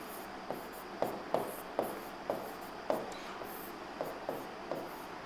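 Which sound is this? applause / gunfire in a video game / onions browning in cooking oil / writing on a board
writing on a board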